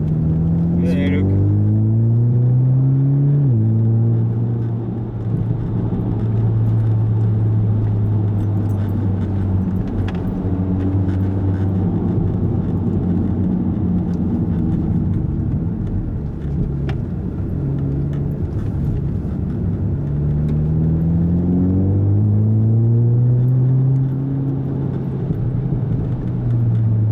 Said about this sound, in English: Great sounding car, this as well.